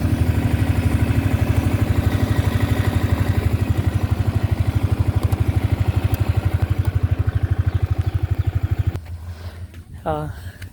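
A motorcycle engine idles with a steady, rapid thumping pulse for several seconds, then cuts off, leaving a quieter outdoor scene with voices nearby.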